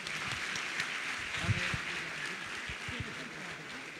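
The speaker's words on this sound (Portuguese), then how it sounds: "vamos receber o homem de Deus aplaudindo Jesus" Church congregation at a Quadrangular service in Itapetininga, Brazil, applauding steadily for about four seconds, a dense even clapping wash with faint voices mixed in.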